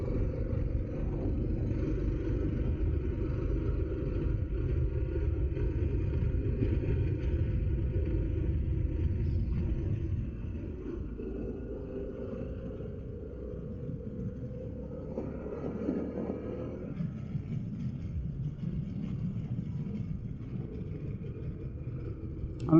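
A Harley-Davidson Pan America motorcycle engine under way, a deep steady rumble mixed with wind buffeting on the rider's microphone, easing off partway through and then pulling again.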